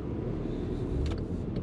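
Steady road traffic at rush hour around Lexington, a continuous broadband rumble of passing cars with a few brief higher whooshes, moderately loud and with no talking.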